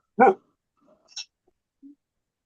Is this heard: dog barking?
yes